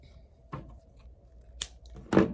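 Scissors snip through string for a beaded garland, three short crisp cuts spaced over a couple of seconds against a quiet background, with no talking.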